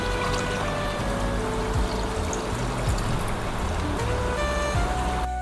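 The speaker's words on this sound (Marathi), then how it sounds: "बघा, आपण आता ते पण पाणी काढून घेऊ." Rinse water from broken wheat (daliya) being drained out of a pot in a home kitchen, a steady close splashing pour that runs continuously and alone throughout.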